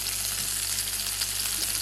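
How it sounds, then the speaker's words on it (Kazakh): Fillet fries in a small amount of oil in a pan, giving a steady, even hiss with a low background hum, close and constant for a short stretch. "Енді филемізді қуырамыз. Кішкентай ғана сұйық майды құямыз."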